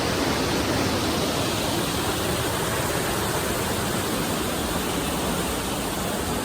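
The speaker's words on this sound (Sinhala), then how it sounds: "දියැල ළඟට යන්න ආව මේ යන්න බෑ. වතුර වැඩි." A heavy-flowing waterfall beside the road between Bulathkohupitiya and Dolosbage in Sri Lanka, swollen with water, gives a loud, steady, unbroken roar that stays even throughout with no voices.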